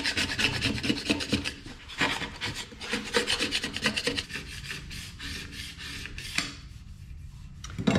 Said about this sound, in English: So all of this squeeze out junk here has to get scraped off